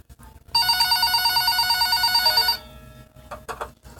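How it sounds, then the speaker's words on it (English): A phone on a counter rings once in a bright, steady electronic trill lasting about two seconds, loud and close, then cuts off into faint room noises and small clicks. "the phone on the counter rang"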